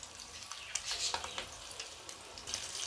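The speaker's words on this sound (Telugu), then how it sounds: "ఎగ్స్ వేసుకుందాం. ఎగ్స్ని ఫ్రై చేసుకుందాం." Eggs fry in a pan with turmeric, a close, quiet crackling sizzle punctuated by sharper pops and spatters throughout.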